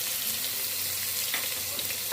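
Garlic, ginger and onion frying in a pan with whole garam masala for a mixed vegetable pulao, giving a steady, close hiss of sizzling oil with a brief louder crackle at the end and no talking.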